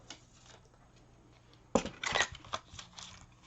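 Scissors cutting through paper during a craft project, a short burst of crisp snipping and rustling against a quiet background.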